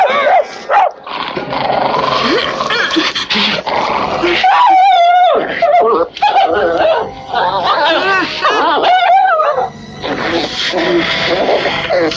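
A dog from a 1972 horror film scene growls, snarls and yelps loudly and close, mixed with shouting voices and frantic movement.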